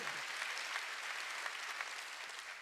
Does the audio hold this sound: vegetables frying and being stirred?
no